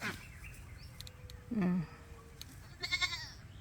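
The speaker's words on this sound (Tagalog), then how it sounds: "Nanunuwag yung kambing na yan ha." A goat bleats once, nearby and brief, over quiet outdoor ambience, with faint bird calls and a short bleat-like cry near the end.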